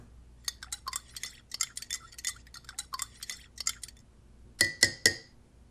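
A spoon clinks against a coffee cup while stirring, a run of light, quick metallic taps followed by a few louder, ringing clinks near the end, close and alone with no talk.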